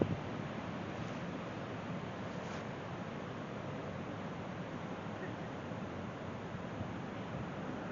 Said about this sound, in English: this big body of water that's here at Praters Mill is called Cohola Creek.